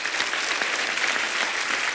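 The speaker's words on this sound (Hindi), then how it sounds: "तो चलिए सबसे पहले बुलाते हैं आप सबकी जोरदार तालियों के बीच" A TV show studio audience claps in loud, dense applause as guests make their entrance, continuous and close throughout.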